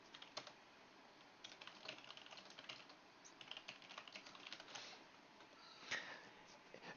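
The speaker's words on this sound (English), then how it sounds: "I'm assuming it's Ev typing" Someone types on a computer keyboard, a quiet, steady run of light, uneven key clicks with no one talking.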